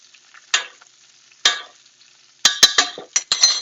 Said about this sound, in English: I'm going to spoon some more butter on this.